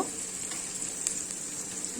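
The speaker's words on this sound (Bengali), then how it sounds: "দেখো সুজিটা ভাজা আরম্ভ করেছি" Semolina fries in a pan with a steady, close sizzle and soft stirring scrapes, and there is no talking.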